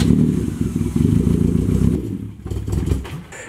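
A cold car engine burning rubbing alcohol as fuel struggles and labors loudly, a rough, uneven running drone that dips briefly near the end and then returns.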